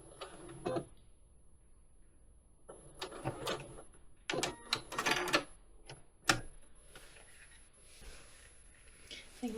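A sewing machine stitches a rice bag made from slow-stitched fabric pieces, quiet irregular bursts of rapid mechanical whirring separated by pauses, with faint handling noises between runs.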